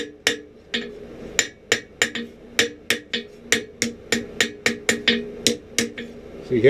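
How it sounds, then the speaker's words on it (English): A small hammer strikes a hand-forged 1700s-style scalping knife blade to straighten it, about twenty sharp ringing metallic blows in a quick, slightly uneven rhythm, close and loud. "Now one more time with the little hammer, you all, and this thing will probably straighten almost all the way up."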